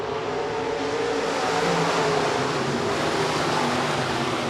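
Pack of USRA B-Modified race cars roaring at speed at the start of a heat race at Rapid Speedway, a dense, continuous engine drone, loud and steady with no breaks.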